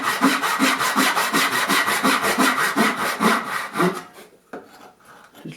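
A hand saw cuts a dovetail kerf freehand in wood with about fifteen even, rasping push-and-pull strokes, close and clear, then stops and leaves a quiet scrape or two.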